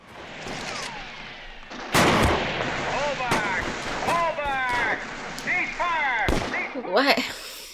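Gunfire from the 1971 film Billy Jack, sharp loud shots and blasts ringing out amid a chaotic film soundtrack, with voices and whistling sweeps over the top and a heavy burst near the end.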